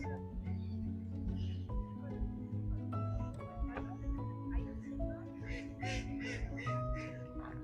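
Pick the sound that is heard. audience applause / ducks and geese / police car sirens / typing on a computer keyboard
ducks and geese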